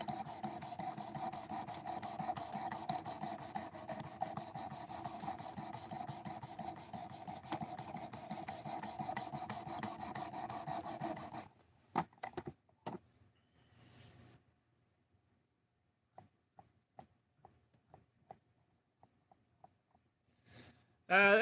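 A knife edge is worked across fine grit sharpening stones, producing a steady close rhythmic rasping scrape for about eleven seconds, then a few scattered clicks and knocks in near silence.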